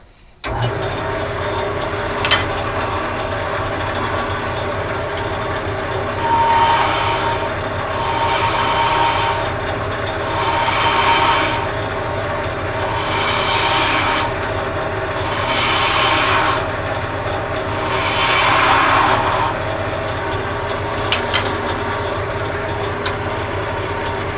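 A wooden lighthouse Christmas tree ornament spins on a lathe while a tool cuts the roof slope and smooths away tool marks. About five rhythmic bursts of rasping cuts rise over a steady motor hum, with no talking.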